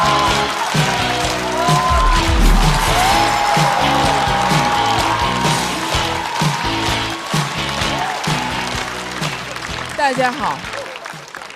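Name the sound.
audience applause welcoming a comedian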